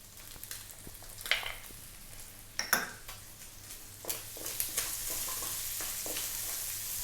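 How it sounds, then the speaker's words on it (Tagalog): Ginger and garlic hit hot oil in a pan and sizzle steadily up close, with several sharp clatters of a utensil stirring and scraping against the pan, no voices. "ilalagay na po natin yung ating luya at bawang"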